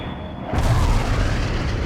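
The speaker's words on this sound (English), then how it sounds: "Laser guided bomb strike completed." A laser-guided bomb strike in World in Conflict lands with a sudden, loud, deep boom that rolls into a sustained rumbling roar, with a faint high whine fading just before impact.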